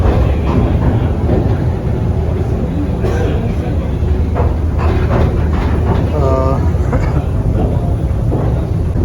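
A ropeway cable car carries riders up a hillside toward a hilltop temple, giving a steady low rumble with occasional clicks and creaks as the cabin moves. Voices talk over it at times.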